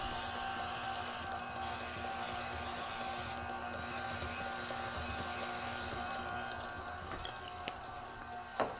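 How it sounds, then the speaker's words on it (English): Short hissing bursts of cooking spray onto baking pans, a few spaced spurts over a steady mechanical hum, followed by light clatter. "So what I'm going to do is spray the pans, the bottom and the sides."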